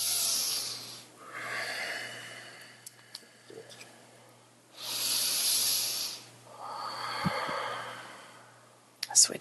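Slow, deep breathing during a kundalini yoga class: long hissing inhales and exhales that alternate in a calm, unhurried rhythm, heard close, with a faint low hum behind them.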